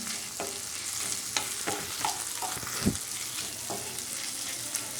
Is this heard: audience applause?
no